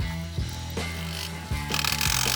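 A ratchet loosens a 10mm screw beneath a bracket on a 2016-2022 Honda HR-V fender, giving a few sharp mechanical clicking bursts close up with brief pauses between them.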